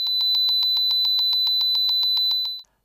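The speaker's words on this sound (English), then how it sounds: "the speaker beeps at the frequency of 4000 Hz" A high, pure 4000 Hz tone from an electronic speaker on a self-balancing robot beeps rapidly and evenly, about seventeen short pulses in under three seconds, loud and close, then stops.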